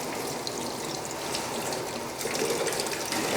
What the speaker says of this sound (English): we put the soap on it, and we scrub it